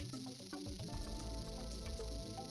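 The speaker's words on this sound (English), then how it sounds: "Guys, the rattle won't stop." A juju rattle in the Game Boy Advance game Tak and the Power of Juju rattles without stopping, a continuous dry shaking texture that sits alongside busy game music throughout.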